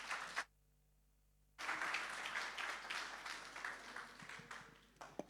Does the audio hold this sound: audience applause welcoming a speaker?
yes